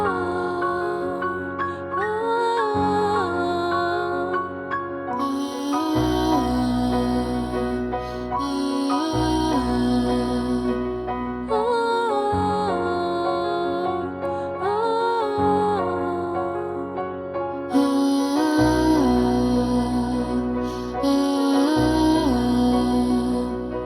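Imagined song of twin stars in space, rendered as continuous layered tonal music with sustained low drones and shimmering high harmonic tones that shift in repeating sections at a steady, full volume, with no voices.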